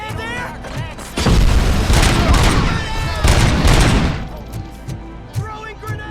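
Sustained heavy gunfire in RoboCop: Rogue City, dense rattling volleys and booms lasting several seconds, then sparser single shots trailing off, with shouted voices mixed in.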